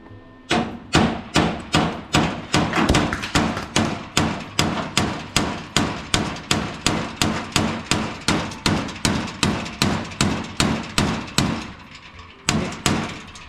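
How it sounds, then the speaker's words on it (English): Loud, rapid hammer blows on the metal body of an old 1941 Chevy truck ring out one after another in a steady rhythm for many seconds, pausing briefly near the end before a final few strikes. "Let me grab a hammer and see if"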